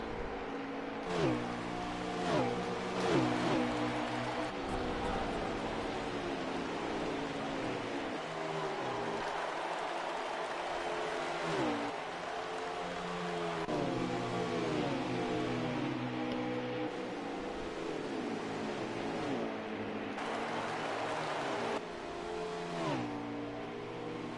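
Race cars on a track during a race, engines droning and rising in pitch as they pass, steady and fairly distant for the whole stretch with repeated surges and no talk.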